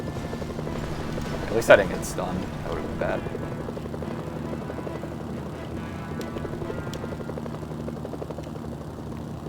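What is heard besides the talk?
helicopter in the video game Mercenaries: Playground of Destruction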